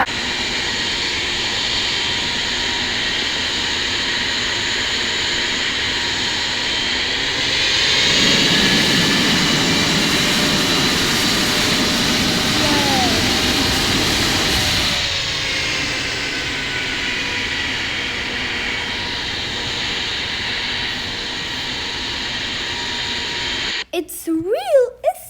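A Boeing 737 jet in an emergency landing gives a steady, loud engine roar that swells for several seconds midway, then settles back to a continuous drone before abrupt, choppy sounds at the very end.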